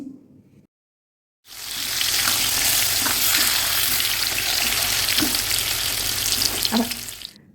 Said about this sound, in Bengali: এখন খুব ভালো করে আলু কুমড়োগুলোকে ভেজে নিচ্ছি